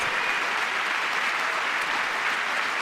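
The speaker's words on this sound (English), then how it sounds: "The hands are gonna be sore from clapping so much." Sustained, dense applause from a large audience at a State of the Union address, a steady roar of clapping that holds evenly for about three seconds with no talk.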